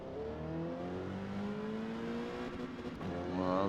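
A Mazda MX-5 race car in Forza Motorsport, E class at Homestead Miami, its engine revving steadily upward through a gear with rising harmonic whine, loud and close, ending in a sharper climb.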